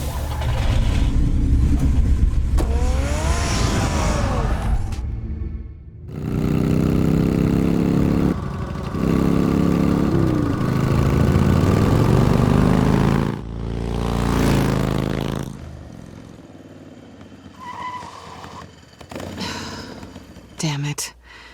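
Batmobile engine in the Batman Telltale game, idling and revving in loud bursts with sudden cutoffs, heard between stretches of dialogue and background score.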